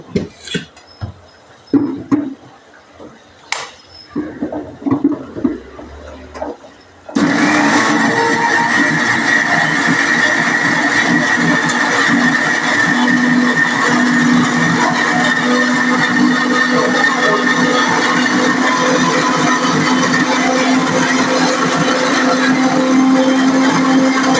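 A mixer grinder purees roasted coconut paste with water for a Kerala theeyal curry, starting after several seconds of soft clatter and handling, then running as a loud, steady, close whirring grind to the end.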